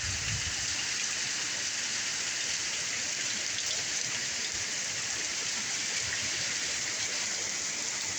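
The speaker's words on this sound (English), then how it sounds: "Gosh, it really came down." Heavy rain pours down steadily in a flooded town street, a dense, continuous hiss of water at even loudness throughout, with no voices.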